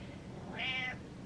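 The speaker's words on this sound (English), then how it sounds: "Meow." A single short cat meow, close and clear, over a quiet background.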